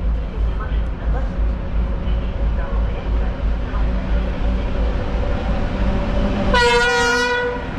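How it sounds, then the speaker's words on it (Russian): A ChME3 shunting diesel locomotive rumbles steadily at a Moscow railway station, a low engine drone heard close, before a loud horn blast cuts in near the end. "Маневровый тепловоз ЧМ-3."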